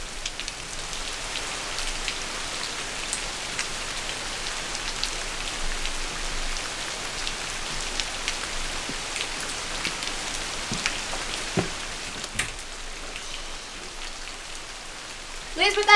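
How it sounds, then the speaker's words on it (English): Steady rain falling and pattering on surfaces outdoors at a rural farmhouse, a dense continuous hiss with scattered louder drops, and a brief voice near the end. "It's starting to rain."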